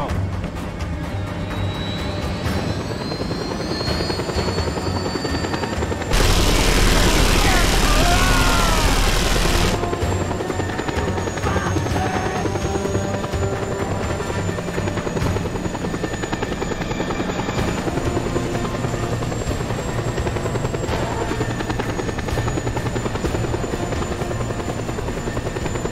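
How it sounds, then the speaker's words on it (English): An air force helicopter arrives in the video game Just Cause 2, its loud rotor thumping continuously throughout with a whining turbine, and a burst of gunfire around the middle. "Panau Air Force chopper arriving shortly."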